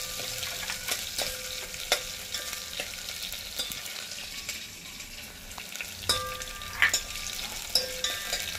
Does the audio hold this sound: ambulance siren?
no